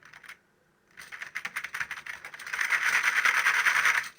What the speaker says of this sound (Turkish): Arkadaşlar bu arada benden çok klavye sesi geliyor olabilir.